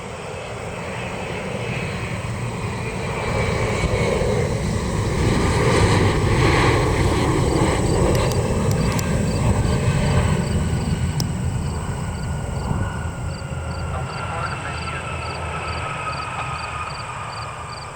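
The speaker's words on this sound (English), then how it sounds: "Delta Connection 5688 inbound from Boston" A Delta Connection jet airliner inbound from Boston passes with a broad, steady engine roar that swells to a peak midway and then slowly fades, heard alone without speech.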